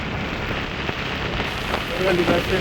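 Heavy overnight rain pours down in Kilinochchi, Sri Lanka, a loud, dense and continuous hiss of drops hitting surfaces close by.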